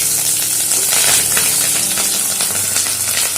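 Eggs frying in hot oil in a wok for a chicken pasta dish, giving a loud, steady crackling sizzle with faint stirring scrapes throughout, alone with no talk.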